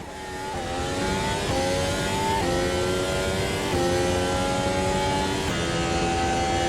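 A race car engine in Automobilista 2 revs steadily at high pitch, dropping slightly at each gear shift before climbing again, loud and continuous with no talking.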